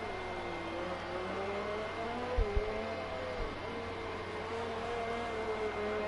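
A McLaren race car brakes into turn 4 during a racing session, its engine note a steady, sustained drone with falling pitch, a couple of brief low thumps partway through, no talk.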